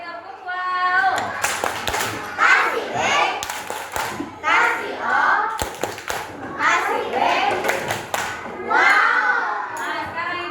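Classroom of children performing the tepuk wow clapping chant, bursts of sharp synchronized claps interleaved with loud group chanting in young voices, rhythmic and close, repeated several times.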